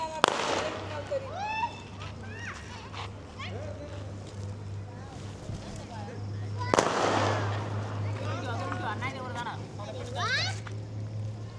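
Diwali firecrackers popping outdoors during a festive evening, a sharp loud bang in the middle and scattered crackles elsewhere, under a steady low hum and voices talking nearby.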